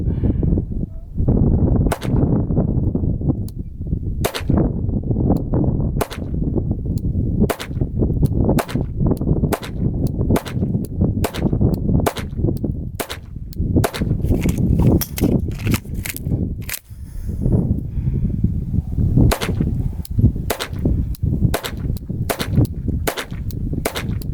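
Glock 44 pistol fired at an outdoor shooting range, a long series of sharp, loud, close gunshots at a steady, fairly rapid pace with short pauses between strings.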